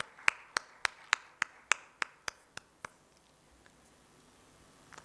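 About ten sharp, evenly spaced hand claps at a welcome for a panelist at an insurance conclave in a Mumbai hotel. They ring out clearly, then stop, leaving near silence.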